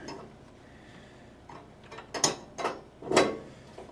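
A wrench ratchets and clicks in short bursts as brass fittings on a brake distribution block are tightened in a 1969 Dodge Charger, several sharp metallic strokes up close with quiet pauses between.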